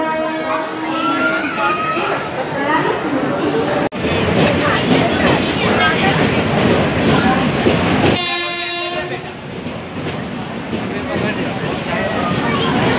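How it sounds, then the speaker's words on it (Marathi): A moving train, its loud rumbling rattle filling the whole stretch up close, a brief horn-like tone partway through, with people talking over the noise. "चालत्या ट्रेन मध्ये बसणार आहे."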